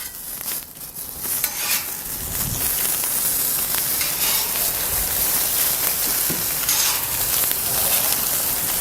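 Sausages sizzle steadily on the hot griddle attachment of a 48-inch Santa Maria grill, a dense continuous frying hiss with occasional crackles and a few soft scraping stirs, close and loud, with no talking.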